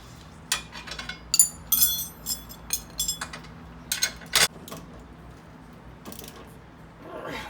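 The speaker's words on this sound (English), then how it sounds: "all we got to do is snug down this control arm bolt on the bottom, the shock bolt on the bottom, and retighten the sway bar bolt" Tools clink and ratchet in short irregular bursts while strut and control arm bolts are tightened on a 2010 Dodge Caliber's rear suspension, with metallic taps close up and quiet pauses between.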